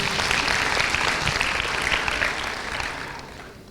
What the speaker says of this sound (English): Let's applaud the two teams on stage.